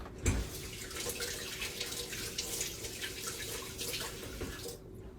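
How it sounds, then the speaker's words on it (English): Hands are washed under a running kitchen tap, a steady close splash of flowing water that lasts several seconds and then stops abruptly, with no talking. "let me wash my hands"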